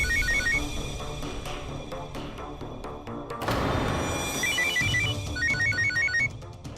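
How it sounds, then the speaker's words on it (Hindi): An electronic phone ringtone chirps in repeating bursts from inside a freezer over loud, busy restaurant kitchen noise and clatter, with no one speaking. "शेफ, मेरे को लगता है कि फोन फ्रीजर में बज रहे हैं।"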